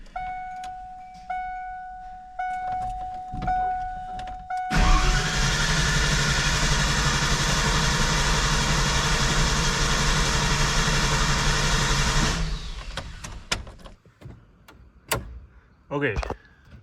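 Some clicks and clatter, then a truck engine, primed before cranking, roars loudly and steadily for about eight seconds before cutting out, followed by scattered knocks and handling noises.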